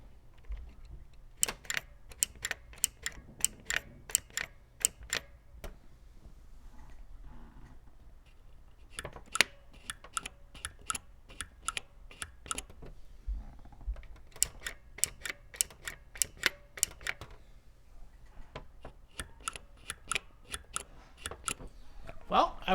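Bursts of rapid typing on a quiet-click replacement keyboard fitted to a CoCo 3 computer, close to the microphone, with crisp clustered keystrokes separated by short pauses over a low background.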